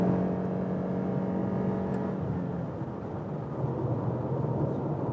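A Toyota RAV4 Hybrid's 2.5-litre petrol engine pulls onto a motorway with a sustained, loud droning roar that rises slightly in pitch, mixed with road and wind noise inside the cabin, with no talking.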